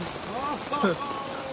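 Heavy rain on a family trip in the Maldives hisses steadily throughout, with a few brief bird-like chirps or vocal sounds rising over it partway through.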